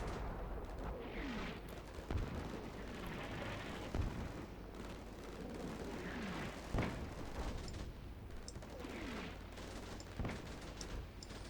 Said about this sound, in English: They do seem a bit anemic to the old 81mm mortars.